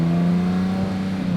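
Lamborghini Murcielago V12 supercar engine holding a brief steady rev around mid range, loud and close with a deep droning tone.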